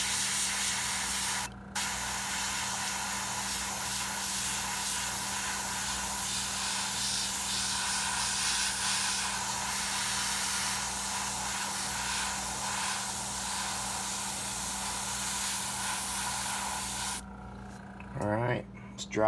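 An airbrush sprays paint onto a custom walleye fishing lure: a steady, close, breathy hiss that runs almost unbroken for about seventeen seconds, then cuts off into quiet with a few small handling sounds.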